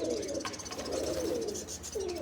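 A female pigeon coos in repeated low, rolling calls, close and moderately quiet, several coos in quick succession.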